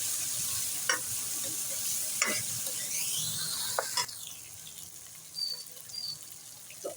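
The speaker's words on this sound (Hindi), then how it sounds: "बस इसकी अब हल्की सी हम भुनाई करेंगे 1 सेकंड के लिए।" Finely chopped tomatoes stir-fried in a pan for chana dal, with a soft steady sizzle broken by a few scraping stirs of a spatula, fairly quiet and close, and a brief light clink near the end.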